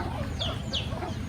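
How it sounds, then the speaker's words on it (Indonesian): Free-range village chickens cluck nearby over steady low background rumble, with a couple of sharper calls rising above the soft, continuous farmyard murmur. "ayam kampung ini kawan-kawan, asli ayam kampung ya"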